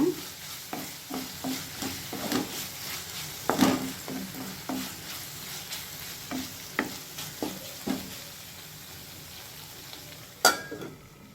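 Okra and potatoes fry in oil in a pan with a continuous soft sizzle, broken by frequent close spatula scrapes and knocks against the pan at an irregular rhythm.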